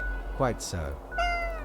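A cat in the game Death and Taxes gives a couple of short meows, clear and close, with a person speaking briefly in between.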